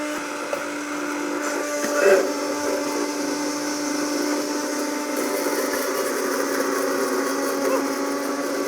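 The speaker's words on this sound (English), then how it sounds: "We want to like totally pulverize these shallots." A kitchen blender pulverizes shallots for a sauce, giving a steady whirring roar with a brief louder surge early on, heard close alongside background kitchen noise.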